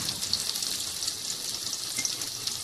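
Chopped onions sizzle as they sauté in hot oil with cloves and fennel for an eggplant fry, a steady close hiss with faint pops and light stirring, no voices.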